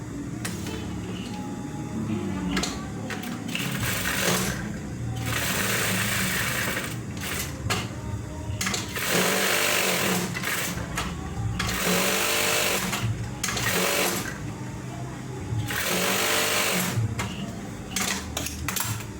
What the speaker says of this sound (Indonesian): Nah, tinggal begini, dilipat, langsung jahit dari dalam di atas.